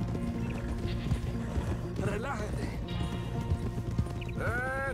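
Horse hooves clip-clop steadily in the Red Dead video game, with a couple of sharp neighs and whinnies rising over dense background game sound, the last one loud and close near the end.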